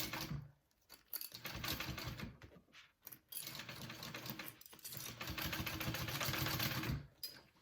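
A sewing machine bastes pieces of a backpack together in quiet, rapid needle runs that stop and start several times, with no voices.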